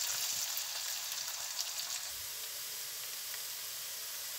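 Onion sautéing in a pan for mussels in tomato sauce, an even, close sizzling hiss with light crackles, steady throughout and with no talking.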